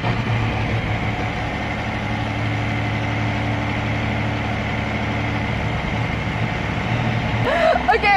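A Mercedes-AMG ONE hypercar with a Formula 1-derived engine idles steadily and close by, a low continuous drone with a brief sharper sound near the end.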